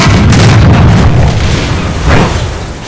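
A tank cannon in an anime dub fires with a loud, deep boom that fills the whole clip, followed by a rumbling decay and a second lesser thump near the end, with no talk.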